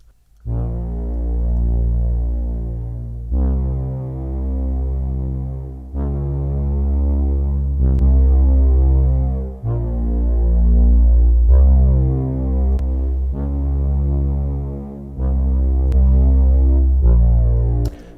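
Deep synthwave bass plays long sustained notes in a slow repeating pattern, heard alone, first with an 80s-style effect and then without.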